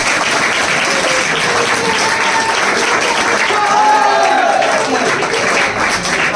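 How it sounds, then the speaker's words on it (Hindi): A crowd at an honour ceremony for 14 young people selected for the Indian Army's Agniveer scheme claps in loud, steady applause throughout, with a few voices mixed in. "ताली बजाओ भाई।"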